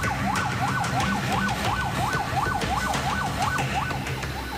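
Fire engine siren in Menteng, Central Jakarta, responding to a burning luxury house, wailing in a steady rising-and-falling cycle about twice a second, loud and continuous with street noise beneath.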